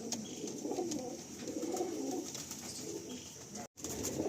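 Malwai, Madrasi and Andhra pigeons coo softly at a breeder's loft, a faint, repeated murmuring under quiet background hum with a brief dropout near the end.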